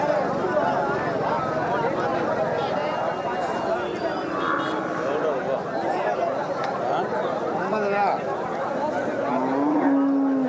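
Cattle lowing amid the bustle of a busy livestock market in Tiruppattur district, low moos rising from a constant crowd babble as people chatter nearby.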